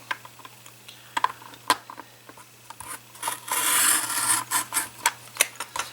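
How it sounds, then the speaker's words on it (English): A WRMK Frame Punch Board cuts paper. Small clicks and taps lead into a steady rasping slide of the blade for a couple of seconds, then more light clicks, close up and with no talking. "I'm going to push it that way just as far as it'll go and cut."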